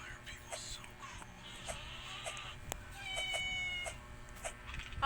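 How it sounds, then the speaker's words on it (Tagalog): A cat in a video game meows several times over busy game ambience and background music, the calls drawn out and fairly close. "you're so cute when you meow"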